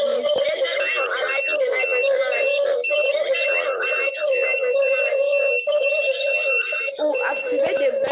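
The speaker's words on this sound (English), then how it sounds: "activate the buzzer, activate the buzzer and the red LED" Buzzer alarm of a homemade laser intruder detector, set off when the laser beam to the light sensor is blocked, sounds a loud, continuous, steady electronic tone for several seconds.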